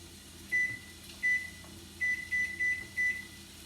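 A kitchen timer beeps in a home kitchen while French onion dip is being made, sounding a short high electronic beep, a second one, then a quick run of four closely spaced beeps, all clear over a quiet hum.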